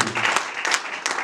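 A church congregation at a Sunday worship service applauding to acclaim the Lord, a short burst of scattered clapping at moderate volume under the room's reverberation.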